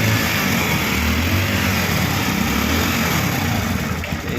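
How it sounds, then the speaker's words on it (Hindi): A Hero Splendor Xtec E-20 motorcycle engine runs steadily just after starting, a close, loud, continuous buzzing idle with no talking. "गाइस फाइनली गाड़ी स्टार्ट हो गई और बंद हो जा रहा है फटाफट।"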